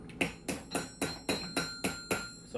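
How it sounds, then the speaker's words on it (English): Metal being hammered flat on another flat metal plate while bending parts for a metal glove, eight sharp ringing strikes in a steady rhythm, close and loud with brief decays between blows. "take it, sit it on another flat piece of metal, and hammer out the flat section."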